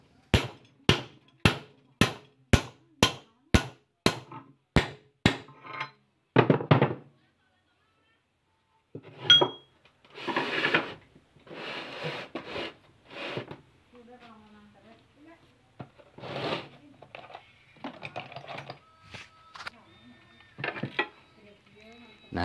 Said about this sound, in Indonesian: untuk cara melepas kelingannya saya menggunakan pahat dengan alat-alat sederhana ini